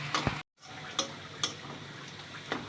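Crushed garlic fries in hot oil in a pan for a crab curry, giving a steady soft sizzle broken by a few sharp spatula taps and one brief cut to silence, with no talking.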